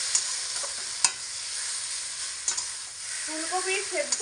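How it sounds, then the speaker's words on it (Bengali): Cauliflower mashed with potato, chilli and tomato being stir-fried over medium-high heat, a steady close sizzle broken by occasional spatula scrapes and taps against the pan. "এবার খুব ভালো করে একসঙ্গে মিডিয়াম টু হাই আঁচে রেখে কষিয়ে নেব"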